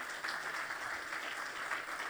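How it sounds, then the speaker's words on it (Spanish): Church congregation applauding during a sermon, a steady, dense clapping that fills the room and holds evenly throughout without pause. "Dale ese aplauso fuerte al Señor."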